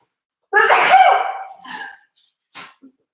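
A single loud sneeze up close, followed by a softer trailing breath and a faint short sniff, with quiet gaps between.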